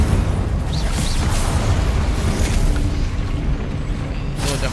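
An Incendio fire spell blasts in Hogwarts Legacy, a loud, sustained low booming roar with crackling bursts that continues for several seconds without speech.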